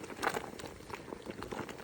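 Faint, soft bubbling and sloshing comes from a pot of onions, peppers, celery and water being stirred for vegetable soup, a continuous low patter with small scrapes and no voices.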